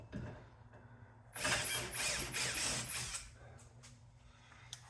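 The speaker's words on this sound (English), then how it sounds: "then we're gonna drill some pilot holes" A drill whirs in short bursts for a couple of seconds boring pilot holes in pine, with a high mechanical whine and ratcheting clatter, then stops, leaving faint handling noises.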